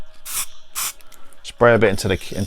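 Two short hissing spray bursts from an aerosol spray paint can, followed by a person talking close by.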